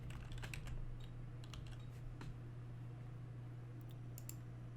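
Keys click in quick scattered bursts on a computer keyboard, faint and close, over a steady low electrical hum with no talking.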